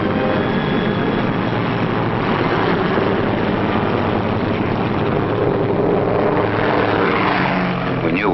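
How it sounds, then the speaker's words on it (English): Roar of WWII Army Air Forces pathfinder transport planes taking off, a loud continuous propeller engine drone with a heavy low rumble filling the whole stretch, no speech. "we heard the roar of engines as the Pathfinder ships began hopping off"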